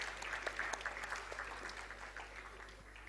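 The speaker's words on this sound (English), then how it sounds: "a big round of applause for all of you sitting here for the work you have done throughout" A round of applause for graduating students at a 2024 convocation, faint and distant over a steady low electrical hum, with scattered claps fading gradually.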